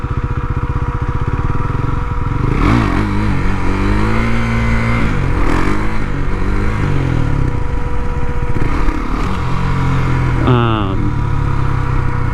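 KTM Duke 390 motorcycle with a 56-tooth rear sprocket pulling uphill in low gear, engine droning loud and close with rising revs through several pulls and a gear change, speech over the engine.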